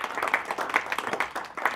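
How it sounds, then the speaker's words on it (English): An audience at a Fusion Tonight gathering gives a brief burst of applause for a guest, Rev. Abraham Funchess, with dense overlapping hand claps close by. "another round of applause for Abraham"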